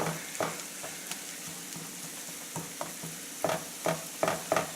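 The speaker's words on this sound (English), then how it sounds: "So I'm just going to wilt these, because we're going to stick it in the oven again." Greens wilting in a hot pan for a quiche give off a soft, steady sizzle, broken by intermittent stirring taps and scrapes that grow more frequent toward the end.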